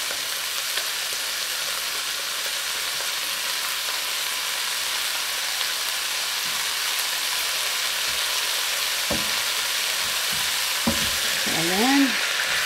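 Thinly sliced asparagus with oyster sauce stir-frying in a pan, a steady loud broadband sizzle throughout with occasional scraping stirs and a brief clink near the end.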